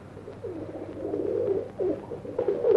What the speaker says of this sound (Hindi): बहुत देर से देख रहा हूँ ये कबूतर बड़ा सुस्त नजर आ रहा है।